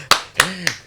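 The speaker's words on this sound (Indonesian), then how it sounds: "Boleh tepuk tangan lah kita lah" Three sharp, separate hand claps spaced evenly close to the mic, with a faint voice tone sliding beneath them in a podcast studio setting.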